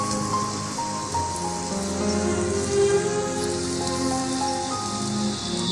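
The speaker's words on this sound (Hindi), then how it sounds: "बहुत तेज बारिश हो रही है।" Heavy rain pouring steadily onto surfaces, a dense continuous hiss with pattering drops that holds at an even level, with no voices.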